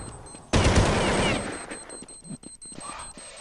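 Rapid bursts of gunfire from the Counter-Strike map de_mirage in a competitive match, a loud sustained volley that tapers into scattered shots and clatter.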